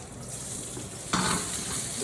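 Prawns or lobster shells sizzle in a smoking hot wok, with a bright hiss that jumps louder midway as more goes into the pan, then settles into a steady fry.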